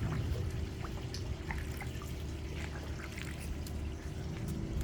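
The cap from a pool water test kit is rinsed in pool water, a soft continuous splashing and trickling close by under steady outdoor background noise.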